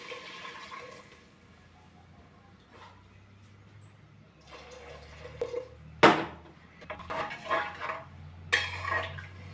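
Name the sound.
water being poured into washed rice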